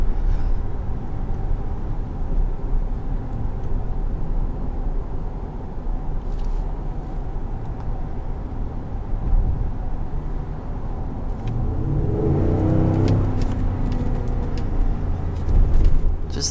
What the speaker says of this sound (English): Just the sound of this truck is absolutely amazing.